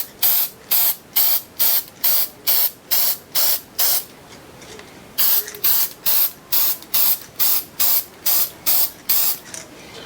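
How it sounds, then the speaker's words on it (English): Short, sharp hissing bursts of Hornady One Shot case lube sprayed onto brass rifle cases for .223/5.56 reloading, repeated in a steady rhythm of about two per second with a brief pause midway, loud and close. "let's go ahead and hit them with some of this Hornady one shot"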